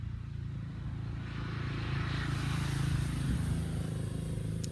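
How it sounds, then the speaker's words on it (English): A motorcycle engine drones and swells as it passes nearby, a steady low rumble rising in the middle then easing off, with no talking. "Sounds like a motorcycle."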